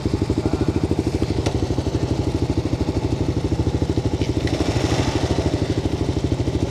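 A Kawasaki KLX250sf motorcycle engine thumps in a steady, loud, rapid pulse, running close and continuously throughout with a couple of faint clicks.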